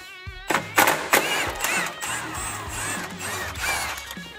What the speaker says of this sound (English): Then we'll grab our 15 millimeter socket on our impact. We'll go ahead and remove the bolt out of the secondary clutch.